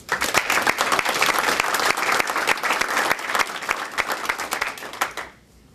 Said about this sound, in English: Please join me in giving these people a very mercy, heartfelt round of applause.